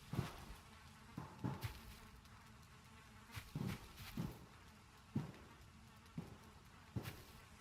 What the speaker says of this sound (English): Oh, it's the bees protecting the honey?